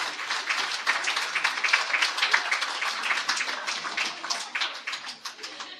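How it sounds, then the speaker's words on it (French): Audience applause for performers at a French art event, a crisp, dense round of clapping from a crowd, loud and sustained with lively individual claps standing out. "On peut les applaudir bien fort parce qu'ils ont vraiment livré une partie d'eux-mêmes."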